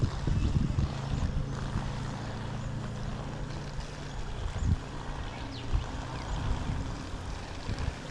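A Supersonic Wake 48 boat's engine idles with a steady low rumble that holds throughout, broken by a few knocks and splashes.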